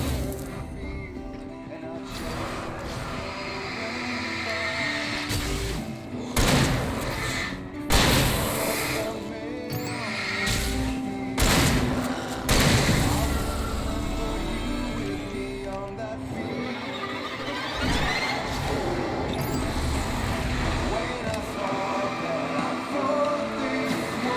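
Several booming explosions in Alan Wake Remastered burst out amid a busy, continuous mix of game noise.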